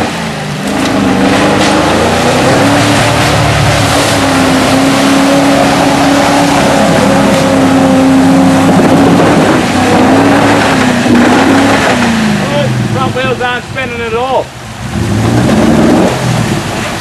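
A car engine revs hard and holds its pitch while the front differential strains under load. The sound is loud and sustained, with wavering pitch shifts and rougher whining bursts toward the end.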